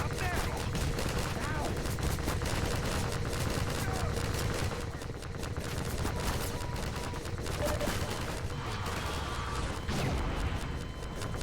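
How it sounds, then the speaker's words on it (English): Sustained heavy machine-gun fire from a Strider in Half-Life 2, a dense continuous clatter of loud rapid shots running throughout with game noise and a voice mixed in. "That's also just shooting a machine gun."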